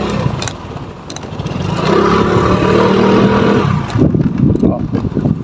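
Motorstar Easyride 150P motorcycle engine revving up with a sustained, loud drone, then dropping off into rough, uneven engine braking, close by.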